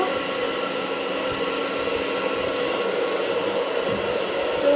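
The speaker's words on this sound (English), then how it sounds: "I will now dry my hair with this blower" A handheld hair blower runs steadily as hair is dried after rinsing, a loud, continuous close-up whoosh of hot air that holds even without pause, with no talking over it.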